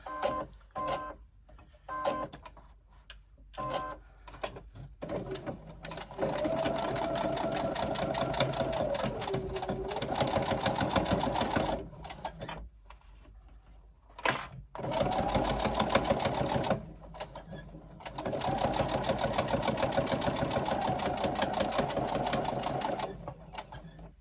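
A sewing machine stitching garment front pieces onto the side panels, running in long steady whirring bursts separated by short pauses and a few brief stops and starts, close and alone.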